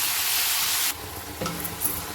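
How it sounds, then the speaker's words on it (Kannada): Roughly chopped medium tomatoes fry in a pan for a mushroom curry, giving a loud, steady hiss that drops to a softer sizzle partway through, with faint stirring clicks. "ಇದು ಸ್ವಲ್ಪ ಸಾಫ್ಟ್ ಆಗೋ ತನಕ ಫ್ರೈ ಮಾಡ್ಕೊಳ್ಳೋಣ"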